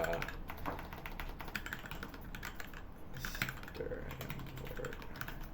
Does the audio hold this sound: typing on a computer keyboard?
yes